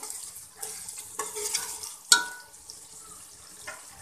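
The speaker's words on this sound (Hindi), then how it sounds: "और साथ में ये टमाटर भी इस तरह से आपने मैश करते रहना है।" Soft, wet squishing and scraping in a pan as tomatoes are pressed and mashed for a masala, with a faint sizzle and a sharper clack near the middle.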